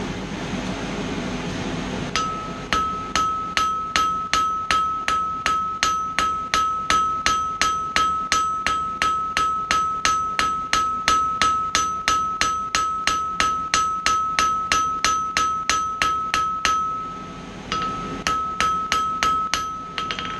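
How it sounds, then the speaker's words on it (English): Rapid, steady metallic ball-peen hammer strikes ring out with a bright tone as hot metal is forged into a bottle opener, dozens of regular blows with a short pause near the end before resuming. "Use the ball of the hammer, keep away from the edge, work both sides"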